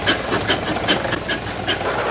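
Steam locomotive exhaust stack chugging on the Crab Orchard & Egyptian railroad, a steady rhythmic puffing of about five beats over two seconds over continuous hissing steam, close and fairly loud with no talking.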